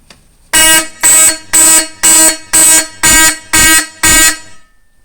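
A Fire-Lite fire alarm system horn (SD365) blares in eight loud, evenly spaced pulses, harsh and buzzing, with no one speaking.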